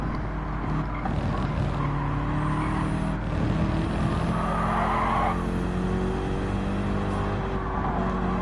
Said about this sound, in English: It is a different engine sound as well, so more than a dulcet, lower, deep tone, rather than just shouty Lamborghini.